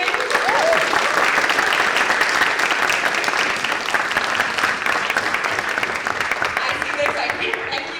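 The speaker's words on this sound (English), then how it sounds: "can I get a huge round of applause for this segment?" An audience at the Nestlé Leader's League Genesis 2025 event gives loud, dense applause that holds steady for several seconds, with faint voices mixed into the clapping.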